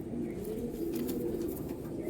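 A golden-eyed female pigeon and others coo softly in a low, continuous rolling murmur, with no talk.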